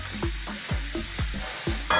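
Sliced chestnut mushrooms go into a pan already frying garlic and onion, giving a loud, steady sizzle with rhythmic stirring scrapes about every half second and no voices.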